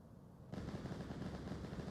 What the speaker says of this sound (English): gunshots coming out early from the likes of Wolfie